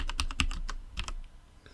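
Close, crisp keystrokes on a computer keyboard as code is typed, a fast flurry of clicks, a short pause, then a few more taps.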